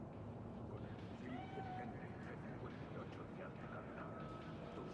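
Faint cat meows in Cyberpunk 2077, a few short, rising and falling mews over a low steady background hum, with a voice speaking softly underneath.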